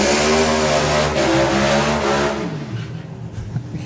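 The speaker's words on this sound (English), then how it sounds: "Side by side, no messing burnouts there." Nostalgia drag racing cars at Santa Pod Raceway roar through side-by-side burnouts, a loud sustained engine blare with revving harmonics that fades slightly toward the end.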